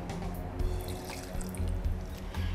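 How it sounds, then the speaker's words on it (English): White rum poured into a glass for a mojito, a soft, steady trickle of liquid over a muddled base, close and continuous with no talking. "The next thing we need is 45 ml of white rum"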